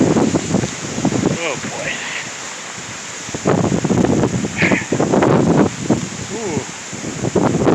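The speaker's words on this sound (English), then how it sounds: "That wind's getting worse." Strong gusting wind during a severe thunderstorm in Michigan, roaring in surges against the microphone with rustling trees, while a man reacts with brief exclamations.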